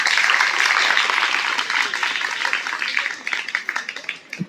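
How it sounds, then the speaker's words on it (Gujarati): An audience at a school's Republic Day celebration in a north Gujarat village claps loudly for the staff. The dense applause thins out over several seconds into scattered, separate claps. "તો એમના માટે પણ સ્કૂલના સ્ટાફ માટે બધા જોરથી તાળીઓ પાડો"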